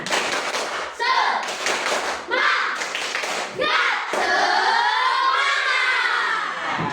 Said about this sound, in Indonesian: coba kita tepuk semangat dulu biar semangat